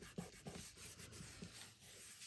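Soft, steady rubbing of a hand across the back of a folded paper greeting card, close and quiet, with a few brief scuffing strokes repeating at an uneven pace and no talking.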